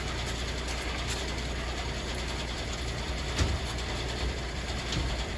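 A ratchet strap being tightened across the roof on a rare right-hand-drive Series 1 Land Rover, clicking steadily beneath constant loud background noise.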